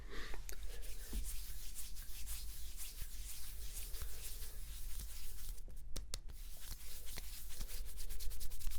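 Hands rub back and forth over oiled skin during an ASMR chest and arm massage, a close, steady, soft friction with occasional brief taps and shifts, no voice present.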